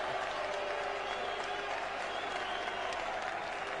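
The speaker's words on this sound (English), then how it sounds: "Huge cheer from the crowd." A crowd at a 1999 World Cup cricket match in Leicester cheers and applauds for Scotland, a dense, sustained wash of clapping and roaring that stays loud and steady throughout.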